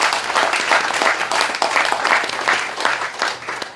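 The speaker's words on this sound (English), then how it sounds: "They deserve a huge round of applause from you." A crowd at a public event with President Irfaan Ali in Berbice breaks into sustained applause, dense overlapping clapping at steady loudness throughout, with no voices over it.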